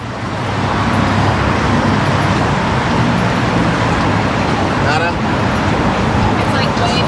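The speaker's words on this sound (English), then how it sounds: "Just trying to talk a bit louder than over that truck." A truck passes on William Street in central Sydney amid steady city traffic, its broad engine rumble running loud and continuous throughout, with someone talking over it.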